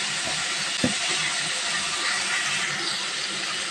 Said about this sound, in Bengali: এবার হচ্ছে আমি মাছগুলা কষায় নেব মশলার সাথে।